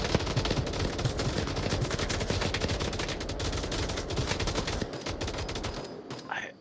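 Dense automatic gunfire in the VR video game Onward, a continuous rattling barrage of many rounds that fades out near the end.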